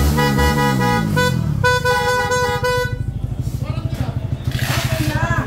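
Vehicle horns honk in sustained overlapping blasts on a busy street, loud and close, then give way to a motorcycle engine idling with a rapid putter.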